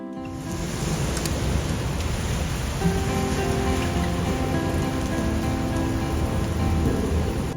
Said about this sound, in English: And then big rain.